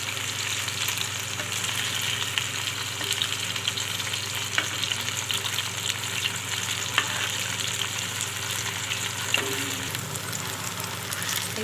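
Spicy prawns fry in a pan over a medium flame, giving a constant close sizzle with occasional faint clicks as the pieces are turned.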